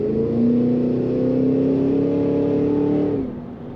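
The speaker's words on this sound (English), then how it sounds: "When you get on that throttle, there's a nice rumble, as you can hear." A 2023 Cadillac Escalade ESV V-Series engine rumbles loud and close as the throttle is held, the pitch climbing steadily for about three seconds before dropping off sharply when it eases back.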